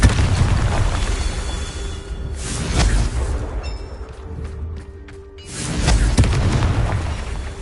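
Repeated Confringo fire-spell blasts in the Hogwarts Legacy game: two loud booming bursts with rumbling low-end tails, separated by a quieter stretch with scattered crackles and pops.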